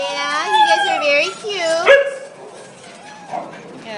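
Rescued puppies at a shelter yipping and whining in high, wavering cries, close and fairly loud, with a sharp yelp midway and quieter sounds after.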